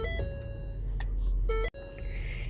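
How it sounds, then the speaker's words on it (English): Electronic chime tones from a Ford Flex dashboard ring out in a short repeating pattern over a steady low engine hum, broken by a brief clicking gap. "that chime sound you hear, by the way,"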